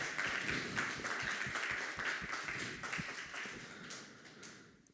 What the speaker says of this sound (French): On peut applaudir Jésus